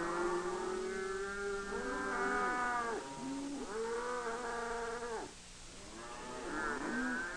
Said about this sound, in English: the cattle are driven into a corral to await their turn at loading onto a river barge.